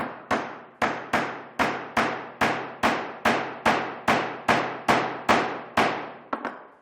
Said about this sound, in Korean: 반대쪽도 약간 기울여서 끌질 해줄 거고요